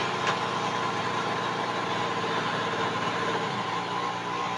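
Electric motor of a modified backpack sprayer's double pump runs at a steady, continuous hum with a constant whine throughout, fairly loud and close, with no voices over it.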